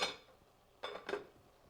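Two short bursts of metallic scraping and clinking, like a utensil stirring food in a pan, separated by a quiet pause with faint background sizzle.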